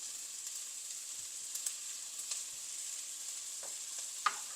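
Dried fish (karuvadu) fries quietly in a pan, giving a soft, steady sizzle with a few faint clicks and small stirring knocks, with no talking.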